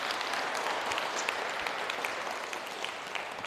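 A church congregation at a Catholic service gives a sustained burst of loud applause, dense steady clapping from many hands filling the room throughout, with no voices over it.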